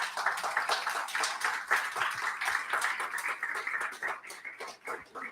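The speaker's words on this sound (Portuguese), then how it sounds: "Dê um aplauso a Jesus" Congregation applauding in church during an evening family service, a steady burst of dense clapping from many hands filling the room, fairly close and continuous, tapering slightly toward the end.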